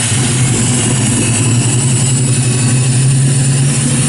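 A 1969 Chevrolet Camaro RS/SS with a 427 V8 and four-speed rumbles loudly and steadily at idle with a deep, even drone, no voices present.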